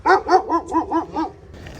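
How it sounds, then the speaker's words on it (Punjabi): An Alsatian dog barks six times in a quick, steady series, loud and close, then falls quiet, on a horse farm in Punjab. "ਇੱਥੇ ਨੇ ਬਈ ਅਲੀਸ਼ੇਸ਼ਨ ਡੌਗਸ ਇੱਕ ਅਲੀਸ਼ੇਸ਼ਨ ਆ ਇੱਕ ਵੋਲਫ ਆ"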